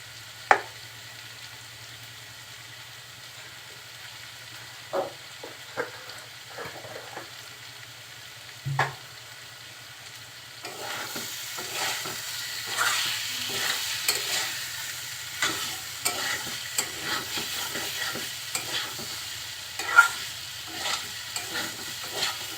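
Mixed winter vegetables with panch phoron sizzle quietly in a pan while a spatula scrapes and taps at irregular intervals; the frying hiss grows louder and busier halfway through, with scattered sharp clicks of the utensil against the pan.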